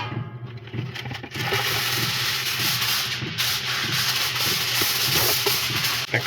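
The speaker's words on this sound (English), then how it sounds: "Get some foil down." Aluminium foil crinkles and rustles as it is pulled out and laid down inside a van during a snowstorm, a close, continuous crackling scrape running for several seconds.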